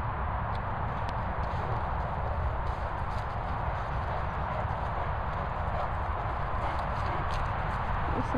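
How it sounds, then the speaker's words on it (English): Horses walk with a steady, continuous clip-clop of hooves throughout, close and clear over a constant outdoor hiss. "They're horses."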